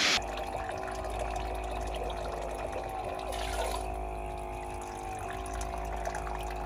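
Water, 2.5 cups, is poured into a cooking pot at a desert truck campsite, a steady running splash that stays even and fairly quiet throughout with no talk.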